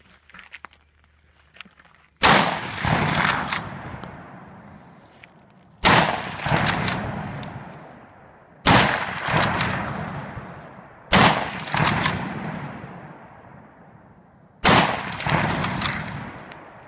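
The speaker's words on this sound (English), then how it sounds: "this is my boomstick. M44 Russian Mosin Nagant." Five loud, sharp rifle shots from an M44 Russian Mosin Nagant ring out outdoors, each cracking then decaying into a long echoing tail, spaced about three seconds apart with no talk.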